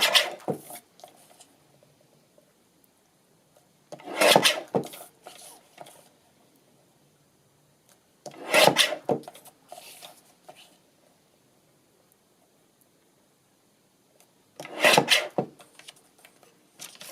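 A piece of wood for a handmade accordion is trimmed to size with a hand tool, four separate bursts of rasping, scraping strokes with quiet pauses between them, close up.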